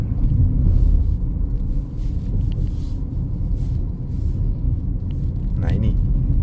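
Wuling BinguO electric car climbing a steep mountain incline, a low steady rumble of tires and cabin noise with little motor whine, while people inside chat over it.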